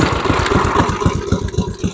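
A Tecumseh Snow King small engine fires up and runs on its own after a carburetor rebuild, giving a steady rapid chugging pulse that stays loud and close throughout, with no talking.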